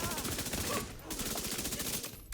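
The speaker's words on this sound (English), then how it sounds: "Shoot this guy." Rapid automatic weapon fire in the shooter game The Division 2, with a continuous, fast rattling burst and a short lull partway through. Game sounds sit underneath.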